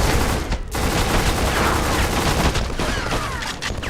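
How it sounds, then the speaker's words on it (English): Gunfire in the first-person shooter Black by Criterion Games, dense overlapping rapid shots and bursts filling the whole stretch, loud and continuous with a brief lull near the start. "Black is all about the guns and how they sound and feel to use."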